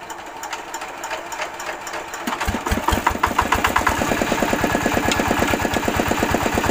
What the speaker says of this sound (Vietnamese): Rồi, máy nổ ngon rồi các bạn nhá.